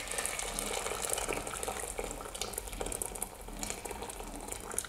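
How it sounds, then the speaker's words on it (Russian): Hot water from a kettle poured over rinsed pearl barley, a steady broadband splashing and trickling that runs continuously at moderate level for the whole stretch, with no talk. "ошпарить горячей водой из чайника."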